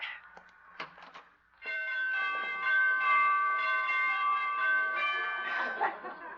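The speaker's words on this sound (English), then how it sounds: "She must have borrowed those door chimes from Carmen Miranda." Door chimes ringing in an old radio comedy scene, a few soft taps and then a sustained bright multi-tone chime that rings on and slowly decays, fairly quiet.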